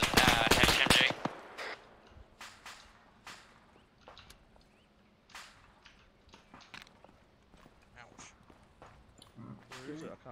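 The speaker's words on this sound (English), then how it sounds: "That sounds like a HMG." Bursts of heavy machine gun fire in Arma 3 ring out across a battlefield: a loud volley at the start, then scattered distant shots and cracks at irregular intervals, with voices talking over them.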